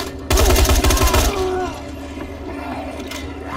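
Rifle shots in the zombie game Dying Light: a quick burst of loud, close blasts up front, then a fading ring and lower ambient game noise.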